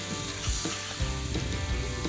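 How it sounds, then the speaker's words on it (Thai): Pork sizzles steadily on a hot tabletop grill at a campsite, a continuous crackling hiss with a few soft low knocks mixed in. "ปิ้งหมูกระทะกันทั้งนะครับ ตอนนี้"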